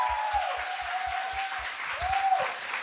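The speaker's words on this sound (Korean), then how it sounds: "그렇게 하시는 경우에 박수 한번 올려드립니다." Church congregation at a Sunday worship service applauding together, steady sustained clapping filling the room with a rhythmic low thumping underneath.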